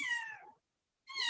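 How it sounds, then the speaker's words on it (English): A pet cat meows twice indoors, close and clear, with a short silent gap between the two calls. "sorry, my cat."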